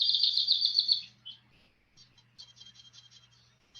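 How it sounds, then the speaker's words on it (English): A distant bird calls in short chirping bursts with a reverberant, roomy tail, fading out and then returning as a series of quicker, fainter chirps over a low steady hum. "that one is a bird, but it's like a distant bird with reverberation on it"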